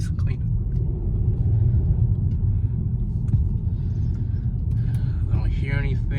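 A lowered VW Passat cruising slowly around a complex, its low engine and road rumble steady and close inside the cabin, with a few brief clicks and a voice toward the end.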